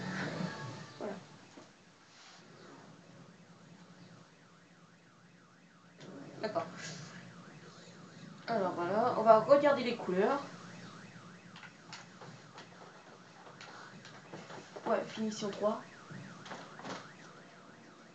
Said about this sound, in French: désolé pour le bruit d'alarme